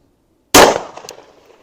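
A Sig Sauer P365 XL Spectre Comp pistol with a short barrel fires one loud, sharp shot of 124 grain +P Remington Golden Saber ammunition, the crack decaying into a short ringing tail.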